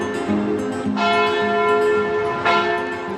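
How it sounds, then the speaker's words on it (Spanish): Church bells in Guadalajara, Spain ring loudly and close, two strong strikes with long, shimmering tones that hang and overlap. "Campanas de iglesia, ¿dónde estamos?"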